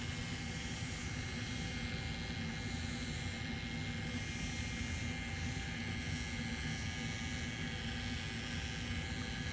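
An Axys Valhalla tattoo machine with a mag needle buzzes steadily with an even, continuous motor drone, close to the mic and unbroken for the whole stretch.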